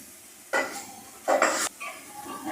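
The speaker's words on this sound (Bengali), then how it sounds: "এখন আমি জালের সঙ্গে আস্তে আস্তে সুন্দর করে নাড়িয়ে দিলাম।" Whole cardamom, cloves, cinnamon and bay leaves are stirred in a cooking pot for beef with potatoes: two loud scraping strokes of a spoon against the pot, then a softer stir and light clinks over a faint background sizzle.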